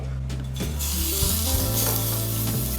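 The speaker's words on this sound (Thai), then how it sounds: "เราก็แค่เอาเนื้อเราไปแตะหน่อย โอ้โหร้อนแล้วนะครับผม" Hot oil sizzles with a steady hiss while steak sears in a pan, mixed with a low tonal hum and some clanking in the background.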